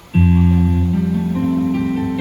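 A few piano notes enter in quick succession and keep ringing together under the sustain pedal as a held, overlapping chord, loud and near with no talking.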